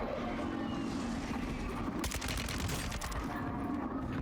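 Rapid bursts of gunfire from Warzone 2.0, sharp volleys cracking out over a steady background din, with a dense stretch of shots in the middle.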